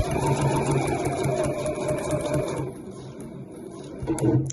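A sewing machine stitches fabric placemats with a steady, fast mechanical whir that runs continuously, then slows and stops near the end with a few clunks.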